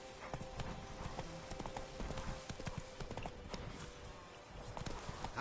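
Roach the horse trotting in The Witcher 3, a steady rhythmic clip-clop of hooves close up, with faint jingling tack and a quiet game background.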